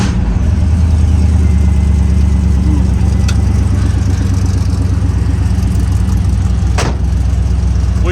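A 1964 Chevrolet Impala engine, no longer on open headers, runs at a loud, steady idle close by with a deep rumble throughout and a few faint clicks.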